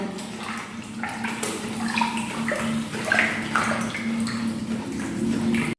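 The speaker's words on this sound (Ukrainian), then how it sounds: "І ось так водичку крутите ось так, і потрошки всипаєте сюди клей і ось так розмішуєте." A hand swirls water while wallpaper glue is stirred in, giving continuous sloshing and gurgling with light clinks against the container, fairly close and with no voices.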